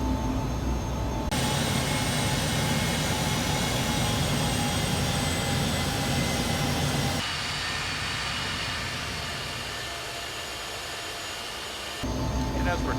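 Airliner engines of an X-Crafts ERJ in a flight simulator game, a steady broadband jet roar with a high whine running continuously while the aircraft taxis, dipping somewhat quieter partway through.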